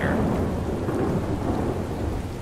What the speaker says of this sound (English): How can I hear the rain from all the way down here?